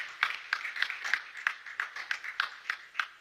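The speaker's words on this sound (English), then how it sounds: "let's once again give him another resounding round of applause" Audience at a media engagement event clapping in a fairly faint but steady round of applause, with distinct claps repeating rapidly.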